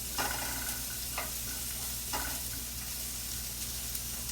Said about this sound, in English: We're just going to let those onions get tender and translucent.